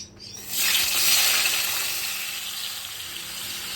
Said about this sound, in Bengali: এবার তৈরি হবে পটল হবে, এই কুচনো পটল ভাজাটা